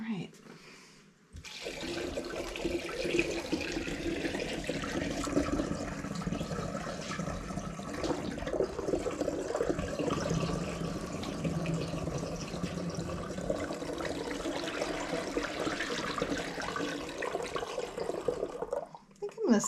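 Liquid pours steadily into a fermentation jug while making cider, a continuous close splashing and gurgling fill lasting most of the time before stopping abruptly.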